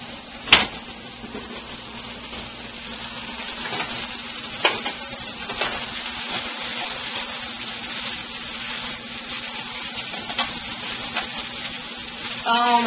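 Greens frying in a pan alongside sausage give a steady, close sizzle with scattered crackles and a few sharp clinks of utensils.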